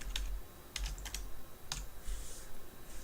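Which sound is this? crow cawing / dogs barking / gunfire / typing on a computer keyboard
typing on a computer keyboard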